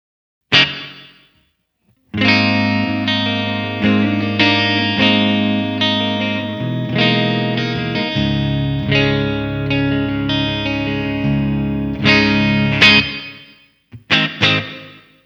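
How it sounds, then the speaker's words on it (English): An electric guitar played through a Blackstar St. James 100 amp on its clean channel with reverb rings out in strummed chords and sustained notes, bright and close, with short gaps between phrases and a reverb tail on each. "Nice clean tone. This amp also has reverb."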